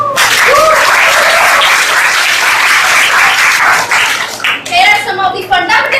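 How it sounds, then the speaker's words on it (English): An audience at a school paper presentation event cheers and applauds loudly, a dense steady roar of clapping and shouts that holds for several seconds before thinning into scattered claps and whoops near the end. "I would like a huge cheer up."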